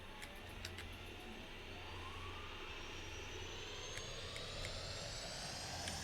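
In Arma 3, a fighter jet carrying scalpel missiles takes off under a sustained jet-engine roar that slowly rises in pitch as it spools up, with a few faint clicks along the way and no talking.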